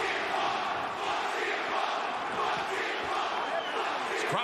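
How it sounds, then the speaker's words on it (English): A lively wrestling crowd at AEW Full Gear in New Jersey fills an arena with a dense, continuous roar of shouting and chanting. The noise is loud and sustained throughout. "This crowd's lively tonight and salty."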